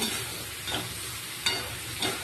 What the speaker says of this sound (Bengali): যে মশলাটা আমি গুলে রেখেছিলাম দিয়ে দিলাম